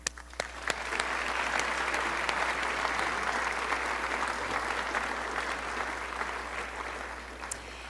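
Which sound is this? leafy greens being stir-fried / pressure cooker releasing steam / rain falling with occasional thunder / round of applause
round of applause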